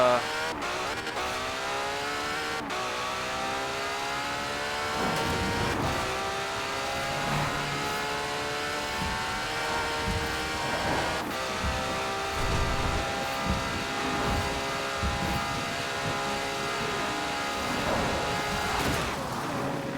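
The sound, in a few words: car engine racing in the rain, from video game Forza Horizon 4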